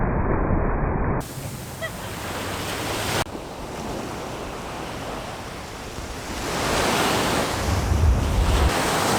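Ocean waves wash and break along an Algarve shore under gusty wind buffeting the microphone, swelling louder toward the end.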